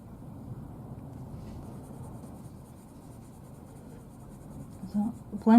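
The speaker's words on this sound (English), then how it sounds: "So blending with the pencil actually helps the pencil to go into the tooth of the paper." A coloured pencil rubs across toothy paper while blending layers, a soft, steady scratching close up, ending with a few louder knocks as the pencil lifts or touches down.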